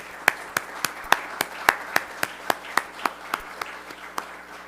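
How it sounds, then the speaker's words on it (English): Slow, rhythmic clapping at an Alpha Chi honor society induction ceremony, about seventeen distinct claps in an even beat, fairly close and moderately loud with no voices. "Let's have a round of applause for all of them."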